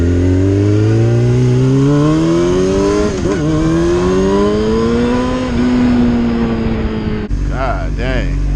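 A Yamaha R6 motorcycle in a Moto2-style build roars loudly while being ridden, its engine pitch climbing steadily through the revs, dipping briefly and rising again before an abrupt change near the end.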